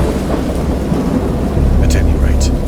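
A great storm around a boat: heavy rolling thunder rumbles continuously over steady rain, growing louder toward the end, with brief crackling bursts near the close.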